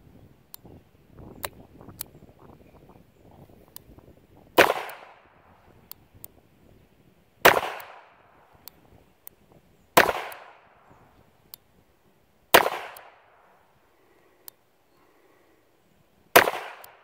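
A Smith & Wesson 43C .22 LR J-frame double-action revolver fires five sharp, close shots at irregular intervals of a few seconds, with faint handling clicks in between.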